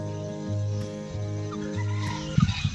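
Chickens in a home garden cluck in low, drawn-out calls at close range, with a few sharper clucks and scratching at the soil with their feet near the end.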